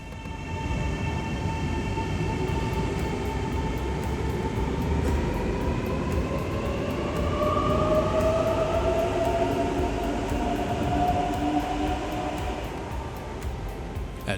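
Inside the Arlanda Express airport train running between Stockholm and Arlanda Airport, a steady loud rumble of wheels on rails carries through the whole ride, with rising and falling whine tones as the train moves along.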